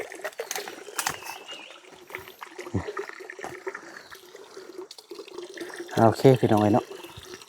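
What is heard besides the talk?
water running while washing something off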